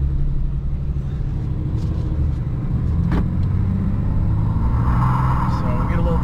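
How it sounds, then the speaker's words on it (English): A stock 2024 Dodge Ram Cummins Turbo Laramie diesel pickup accelerates on a damp road, its engine a steady low rumble heard from inside the cab under someone talking. "So we get a little tire spin."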